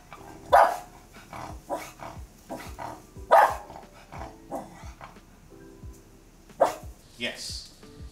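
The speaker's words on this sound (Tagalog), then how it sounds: "sumasagot siya or tumatahol siya ng ilang beses" A dog barks in short, separated bursts while being trained to count its barks; three louder barks stand out among softer yips, and voices can be heard in the background.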